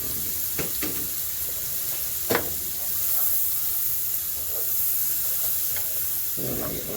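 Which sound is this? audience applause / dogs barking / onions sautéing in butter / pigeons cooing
onions sautéing in butter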